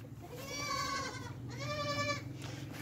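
A goat on a goat farm in Pakistan bleats twice, two long wavering calls close by, over a low steady background hum with no talking.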